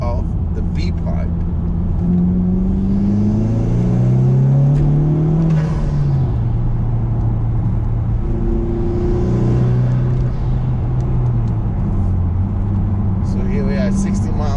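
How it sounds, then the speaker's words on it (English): A Honda FK2 fitted with a Tegiwa B-pipe exhaust drones loudly from inside the moving car, its engine note climbing and falling through two rises in pitch. Someone talks over the steady roar. "To hear the sound of the B-pipe."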